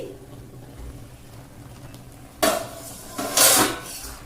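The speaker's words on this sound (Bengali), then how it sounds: "মিনিট 5 পরে এবারে আমি ঢাকনাটা খুলে ফেলছি" A lid comes off a cooking pot of taro stems over a medium-high gas flame with two or three close metallic clanks and rattles, after a quiet stretch of low background hiss.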